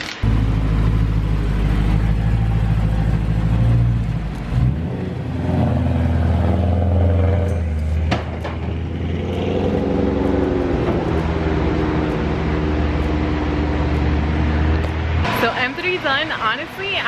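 A 2009 BMW E92 M3 is revved hard on a dyno. The loud, sustained engine note climbs and holds for long stretches, then cuts off abruptly into lighter mechanical clatter.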